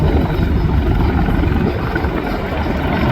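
Steady, loud rotor and engine roar of a USMC CH-53E Super Stallion heavy transport helicopter at an airshow, a dense continuous thrum with no breaks, close by.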